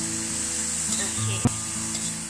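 Vegetables and meat stir-fry in a home kitchen pan with a constant bright sizzle, scraped and tossed by a utensil, with one sharp knock against the pan partway through.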